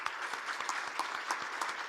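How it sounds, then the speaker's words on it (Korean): Church congregation applause during a Korean Sunday service, a soft, even roll of many people clapping together that stays steady and somewhat distant throughout, with no talking over it. "한번 일어나서 인사해 주시면 우리 박수로 부탁드리겠습니다"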